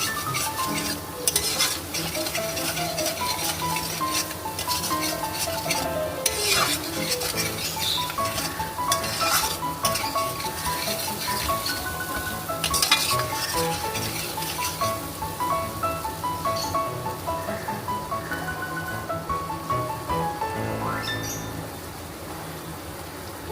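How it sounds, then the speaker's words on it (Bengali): Katla fish curry masala is being sautéed in a pan with continuous stirring, a sustained scraping sizzle with rhythmic spoon strokes against the metal that carries on for a long stretch, close and without speech. "আবার একটু কষিয়ে নিচ্ছি"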